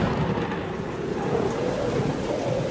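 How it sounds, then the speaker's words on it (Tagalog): Heavy rain pours down in a thunderstorm story sound effect, a dense, loud, constant roar of rainfall with low rumbling thunder underneath and no voices. "bumuhos ang malakas na ulan"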